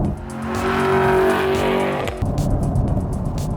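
Honda Civic Type R or Chevrolet Camaro SS 1LE engine roaring hard on a race track, a loud sustained rev that builds and holds, then shifts into a rough, burbling drone up close.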